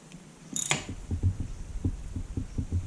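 A spark plug tightened a quarter turn into the head of a Honda CBR250R MC19 engine, heard as a sharp metallic click followed by a rapid train of small ratcheting ticks, close and fairly clear.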